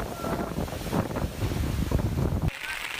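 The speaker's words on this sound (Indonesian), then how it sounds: "Akibat hujan deras disertai angin kencang" Strong wind with heavy rain lashing Yogyakarta during a storm that brought down giant banyan trees, a dense, continuous roar of gusts and rain buffeting the microphone. It drops abruptly to a thinner hiss near the end.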